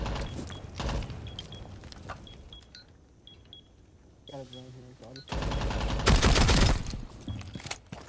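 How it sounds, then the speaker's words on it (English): Gunfire in Rainbow Six Siege, with scattered shots and short bursts, followed by a louder, denser stretch of rapid fire near the end. Someone talks over parts of it. "Some shots out."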